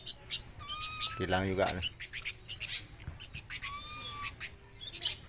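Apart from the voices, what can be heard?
zebra dove (perkutut) calling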